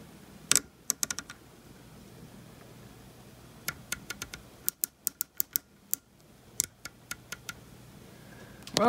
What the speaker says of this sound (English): More of an audible click on the windage.